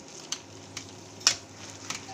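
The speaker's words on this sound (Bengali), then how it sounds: "এখন আমি এটা তেলের মধ্যে ভেজে নেব।" Drumstick leaf fritters in gram-flour batter fry in hot oil with a soft steady sizzle, marked by several sharp crackling pops that stand out over the low hiss.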